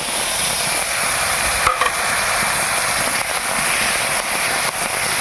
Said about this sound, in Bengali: ভালো করে লাল লাল করে ভেজে নেব আলু